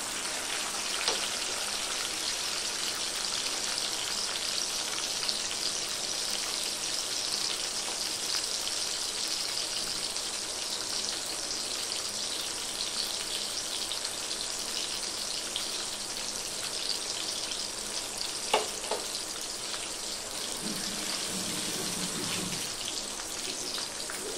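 Chopped onion sizzling in hot oil in a pan, a steady dense crackle and hiss running without pause from start to finish, with a few louder spits and the clink of a stirring utensil near the end.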